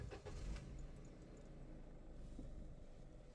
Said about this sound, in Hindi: मैं आपको दिखाता हूँ कि इंजन की स्टार्टिंग साउंड